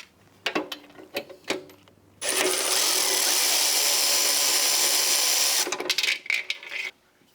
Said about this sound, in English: you're going to remove these two bolts